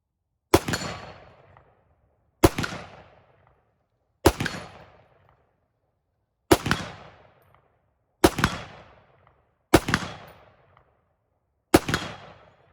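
A Springfield Armory M1A rifle fires seven single loud shots at steel targets, spaced roughly two seconds apart, each sharp crack trailing into a short decaying echo, with no talk.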